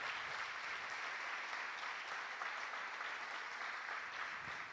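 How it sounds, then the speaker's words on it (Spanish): Congregation applause in a church service fills the space with steady, dense clapping from many hands, sustained evenly throughout with no voices rising above it. "Dale un aplauso al Señor."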